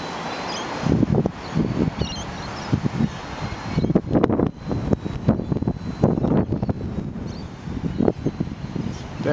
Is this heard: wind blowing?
yes